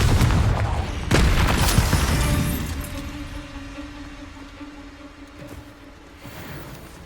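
Confringo explosive spell blasts in Hogwarts Legacy, two sharp bursts near the start with debris crackle, then a ringing tone that fades out under quieter rumble.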